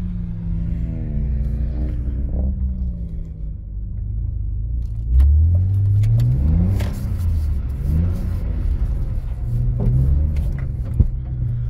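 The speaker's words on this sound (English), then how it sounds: "There we go, one BMW goes sideways." A BMW drifting sideways on snow, its engine revving up and down in rising and falling sweeps, loud and close, with a sharp surge midway and a brief knock near the end.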